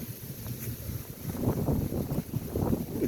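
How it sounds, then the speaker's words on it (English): Wind blowing outdoors in a garden, gusting and buffeting against the microphone with a low rumbling roar that strengthens partway through. "It's windy right now."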